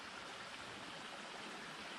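Stream water rushing downhill after rain, a steady, dense, close wash of flowing water that holds constant throughout with no pauses and no voices.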